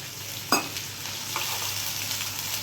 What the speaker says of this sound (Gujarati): મેથીનો અને લસણનો વઘાર તમે એકદમ અલગથી આવે સાર